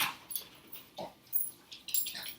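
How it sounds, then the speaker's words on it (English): Dogs running around a home kitchen, giving short scattered bursts of light scrabbling and soft yips at moderate distance, with no talk over them. "My dogs are running."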